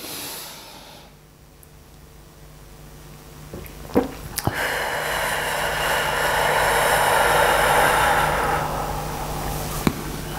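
A long, deep breath drawn in and let out slowly, close and breathy, rising into a broad airy rush that holds for several seconds before fading, with a few small clicks.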